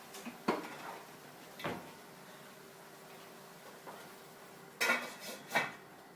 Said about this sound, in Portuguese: vou tampar a panela.